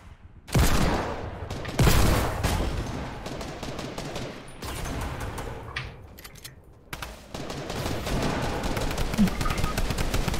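Gunfire in the video game Fortnite: loud, rapid bursts of automatic shots and single blasts follow one another almost continuously, close and dense, with a brief pause between volleys.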